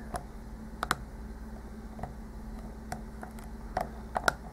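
A Master Lockout padlock being picked with a music wire tension wrench and a homebrew pick: a scattering of sharp, close, light clicks and ticks at irregular intervals over a quiet steady hum, with no talking.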